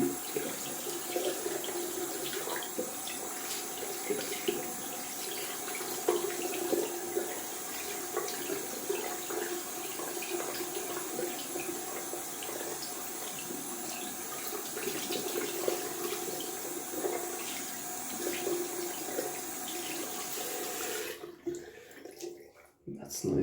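Tap water running steadily into a sink to rinse leftover lather from a shaving brush knot, a soft continuous splashing hiss that cuts off abruptly near the end.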